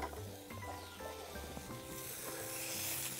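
Pork ribs sizzle in a hot pan, a steady crackling fry with scattered pops and faint clinks of utensils throughout, close and continuous with no talking.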